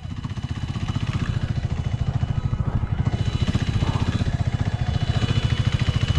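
A KTM RC 390 motorcycle engine revs steadily, a loud throbbing pulse close by that holds a fast even rhythm throughout.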